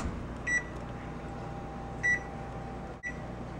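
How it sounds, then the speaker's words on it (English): An oven timer gives two short electronic beeps, a moment apart, as it is set to ten minutes in a quiet home kitchen, followed by a faint click. "you're gonna set your timer to 10 minutes."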